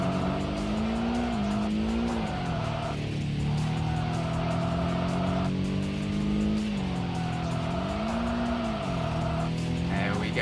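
A Subaru Impreza cornering in the Kaido Racer video game, steady loud engine drone with rising and falling revs as it shifts, and tires squealing through the corners.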